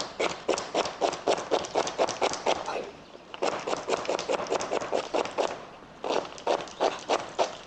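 Rapid, even knife chops through celery on a cutting board in three quick bursts with short pauses between, close and crisp.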